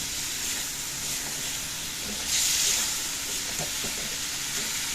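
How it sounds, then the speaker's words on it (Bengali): Spices fry in a pan with a steady close hiss and sizzle, swelling briefly mid-way as water is added, with faint stirring scrapes underneath. "তার মধ্যে একটু জল দিয়ে আমি মশলাগুলো কষিয়ে নেব"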